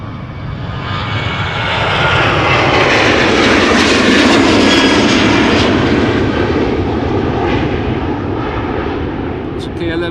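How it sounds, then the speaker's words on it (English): A KLM Boeing 737 jet takes off from the Polderbaan runway at Amsterdam Schiphol Airport, a loud, sustained engine roar that swells and holds steady throughout, with no speech over it. "KLM 737 just took off from the Polderbaan."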